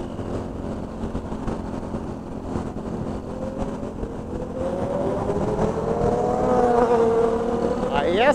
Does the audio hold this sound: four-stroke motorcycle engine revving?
yes